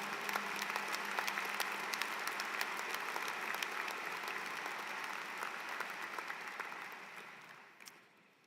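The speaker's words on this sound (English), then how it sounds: "So please, a big round of applause to this amazing, amazing staff and faculty." At an online graduate programs commencement ceremony, an audience applauds the staff and faculty with steady, sustained clapping from a large crowd that fades out toward the end, with no talk over it.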